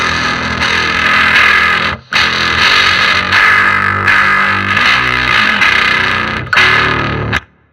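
Heavy distorted bass guitar with a band-style sound, loud and continuous with a harsh, clanky pick attack on each note, played alone with two brief pauses.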